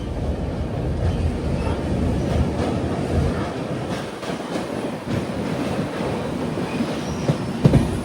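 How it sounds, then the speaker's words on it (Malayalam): The Garib Rath Express rolls into Thiruvananthapuram North railway station, wheels clattering over rail joints in a steady rumble close by, with a brief squeal near the end. "തിരുവനന്തപുരം നോർത്ത് റെയിൽവേ സ്റ്റേഷനിലേക്ക് ട്രെയിൻ ഇതാ എത്തുകയാണ്"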